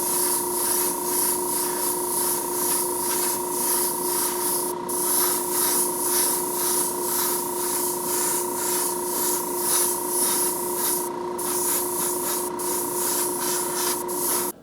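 Steady aerosol spray painting coats onto a Hot Wheels '66 Nova die-cast car, a continuous close hiss with faint tonal whines running unbroken through overlapping passes, with only brief gaps.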